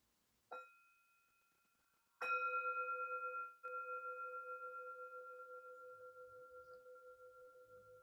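A meditation bell is struck once softly, then struck again more firmly, its clear tone ringing out and slowly fading in a long, pulsing sustain in a quiet room.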